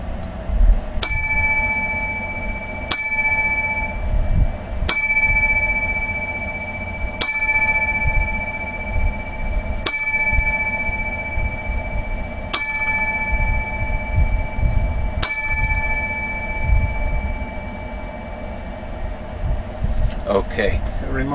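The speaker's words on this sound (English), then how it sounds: "have a moment of silence and seven bells for the passing away of the great legend Muhammad Ali" Seven clear, bright bell strikes ring out in tribute to Muhammad Ali, spaced evenly about two and a half seconds apart, each ringing on over a low background hum.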